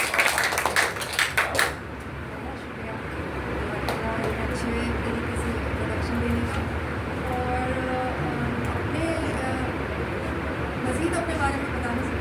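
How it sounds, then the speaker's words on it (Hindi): An audience clapping at a gathering: a burst of dense, close applause lasting under two seconds, followed by someone speaking over a low room murmur. "अब पुरजोर तालियों में प्लीज़"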